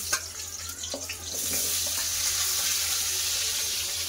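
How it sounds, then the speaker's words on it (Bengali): Potatoes frying in hot mustard oil in a wok, a steady broadband sizzle that swells after a few faint clinks and then holds loud and even throughout, with no talking. "দিয়ে দিলাম সরষের তেল। তেল গরম হয়ে গেছে। আর আলুগুলো দিয়ে দেবো।"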